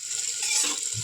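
Beef head meat fries lightly in a pan, a soft steady sizzle with faint stirring scrapes underneath, close and quiet, no talk.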